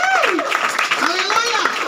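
Church congregation applauding during a sermon, dense clapping mixed with a preacher's voice talking over it throughout.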